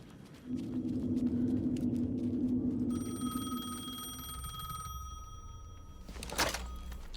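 A telephone rings in the video game Alan Wake 2, a harmonic electronic ring that starts midway and holds for about two seconds over a low rumbling ambience, followed by a sharper burst near the end.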